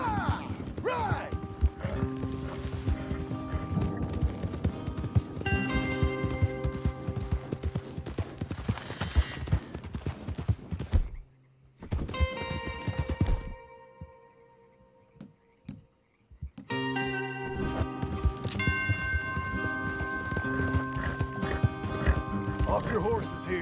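Horses clip-clop at a steady gallop in Red Dead Redemption 2, loud and continuous under a music score and talking, with a brief drop-out mid-way before the hoofbeats and music return.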